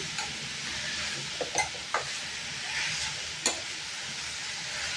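Amaranth greens stirred and cooking down in a kadhai, a gentle sizzle broken by a few brief scraping clicks of the spoon.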